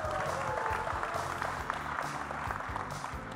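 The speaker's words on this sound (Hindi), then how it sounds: "जोरदार तालियां हो जाएं" Audience applause at the trailer launch of the film Haseena Parkar, a steady wash of clapping at moderate level throughout, with faint voices mixed in.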